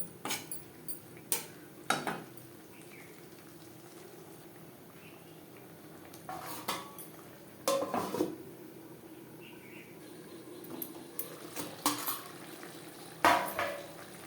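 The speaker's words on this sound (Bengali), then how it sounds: "তিন চার মিনিট মিডিয়াম টু লো ফ্লেমে মশলার সাথে আলু বেশ ভালো করে কষিয়ে নেওয়ার পর দিয়ে দেব জল" Spatula stirring potatoes with spices in a cooking pan over a medium-to-low flame: intermittent metallic scrapes and clinks over a soft steady frying hiss, close and fairly quiet, with no speech.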